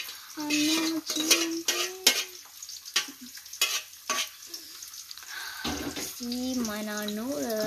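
Water pours off boiled noodles in a home kitchen, splashing in bursts with sharp clanks of a pot or utensils, then a steady tap-like stream near the end.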